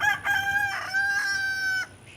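Chickens on a farm, with a rooster crowing in a drawn-out, wavering call close by, broken by a few short clucks and squawks, then fading into quiet.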